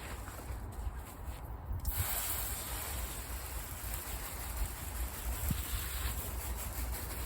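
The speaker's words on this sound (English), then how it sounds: "I'm just going to hose it off really." A garden hose sprays water over seaweed at an allotment, making a steady, close hiss that runs without a break under a low rumble of wind.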